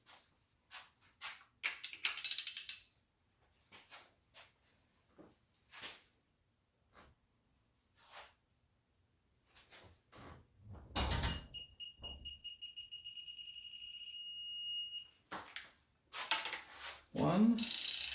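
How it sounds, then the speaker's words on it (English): A ratchet clicks in quick bursts while cylinder head bolts are turned an extra 90 degrees with a torque angle gauge, with scattered tool clinks and handling noises around sparse, quiet gaps. "Now use torque angle gauge to add 90 degrees of twist to these same bolts"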